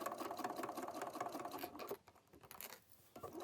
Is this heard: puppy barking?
no